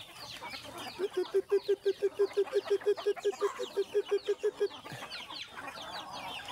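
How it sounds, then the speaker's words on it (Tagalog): Many backyard chickens cluck and chatter together, with one hen giving a rapid, regular run of about twenty loud clucks close by, while other birds sound softer around it. "pakain tayo ng manok oh"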